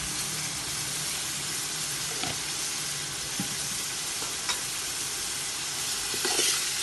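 Spices with salt and cumin stirred and frying in a pan for chicken biryani, a steady loud sizzle with occasional scraping stir sounds, close and continuous with no talking.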